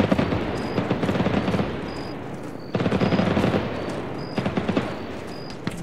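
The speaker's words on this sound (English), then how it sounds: "We got shots front southeast somewhere." Sustained bursts of automatic gunfire and scattered single shots in the military shooter game Arma 3, crackling and fairly near, with a brief lull before the firing resumes.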